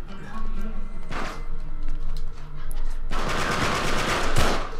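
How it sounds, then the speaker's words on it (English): Gunfire in the video game Uncharted 3, with a short rapid burst and then a longer dense automatic volley, loud and close, over steady game background noise and some talk. "No, someone's shooting."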